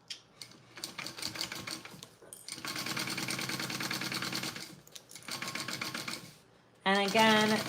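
A sewing machine bastes a panel onto a Roadie bag in three close, rapid bursts of stitching separated by short pauses, followed by a brief voice at the end.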